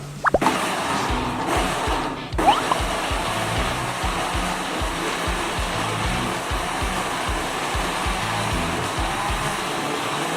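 An electric blender whirs steadily as it purées a boiled pork broth mixture, a loud, continuous motor roar with a brief dip near the start, no voices over it.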